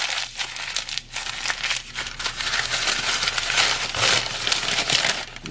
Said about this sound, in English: I think I'm gonna crumple it.